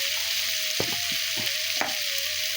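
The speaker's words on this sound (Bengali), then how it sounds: "মা এবারে আলু আর পটল দিয়ে দিয়েছে, সব দিয়ে এবার ভালো করে কষাবে" Potatoes and pointed gourd sauté in a pan for a prawn curry, a loud constant sizzle with a few scrapes of stirring close up, no voices.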